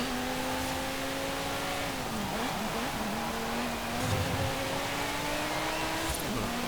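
Lamborghini race cars in the Forza Horizon 5 racing game, a sustained high engine drone with a pitch dip and recovery as gears shift, a brief rumble midway, steady and fairly loud without speech.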